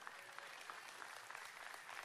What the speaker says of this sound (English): That is a weak clap